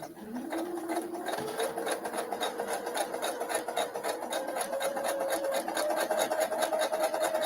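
A sewing machine runs steadily with a fast, even, rhythmic whirring and stitching beat from close by, holding the same pace throughout with a faint tonal hum underneath.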